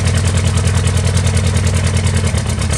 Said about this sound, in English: good running LP gas Clark engine, has an automatic transmission with the high and low transfer case.